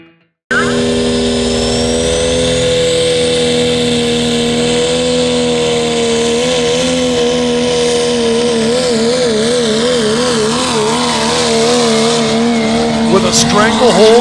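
Loud, continuous engine roar from diesel trucks drag racing at the Oklahoma Diesel Nationals, with layered droning harmonics that waver and rise through the run, plus a brief squeal near the end.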